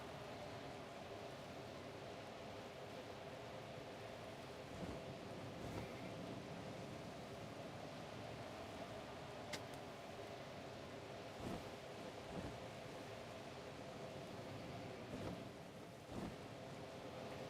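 Rainy weather in a Pokémon video game: a faint, steady rain hiss with soft, occasional thunder rumbles in the distance, and no talking.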